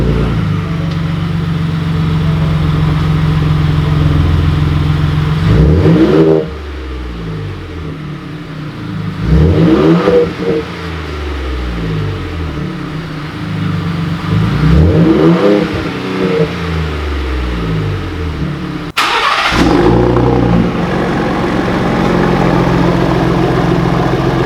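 A Ford Raptor truck engine runs loud and close, rising in several sweeping revs roughly every few seconds, each climbing and falling back to a steady rumbling idle.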